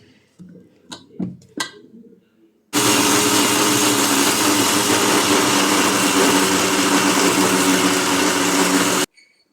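A kitchen mixer grinder blending boiled okra with water, starting abruptly after a few soft handling knocks and running loud and steady for about six seconds before stopping.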